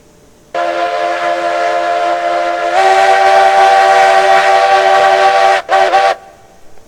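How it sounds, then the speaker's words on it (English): A steam locomotive whistle in the game Railroads Online blows loud and close, a long sustained chord that swells louder midway, then ends in two short blasts before fading. "definitely the best sounding whistle in game now, without a doubt."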